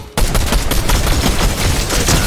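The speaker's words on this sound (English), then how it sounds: "someone's shooting me right here" Dense rapid gunfire in a shooter video game, loud continuous automatic fire that starts abruptly and keeps going without a break.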